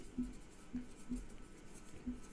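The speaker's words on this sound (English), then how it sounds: "I'll write here" Marker or chalk writing on a board during a biology lecture, faint short scraping strokes in a loose rhythm, about five distinct taps and scrawls with quiet room tone between them.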